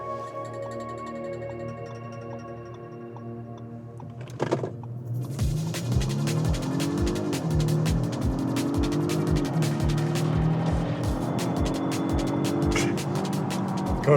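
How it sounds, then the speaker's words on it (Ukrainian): 2023 Audi SQ5 Sportback launching hard from standstill, a low idle hum followed by a sharp surge and rising engine roar with regular thudding pulses, close and loud, heard from inside the car without talk. "Просто я різко відпустив педаль тормозу е, і нажав пол, і все."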